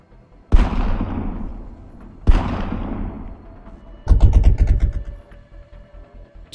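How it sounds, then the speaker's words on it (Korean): Two loud, sharp gunshots ring out with long echoing tails, followed by a rapid burst of several shots in quick succession. "총소리가 분명한디?"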